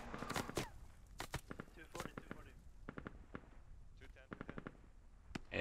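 Gunfire in a multiplayer military video game: sharp single shots and short rapid bursts cracking at varying distances, interspersed with quieter battlefield noise and faint talk.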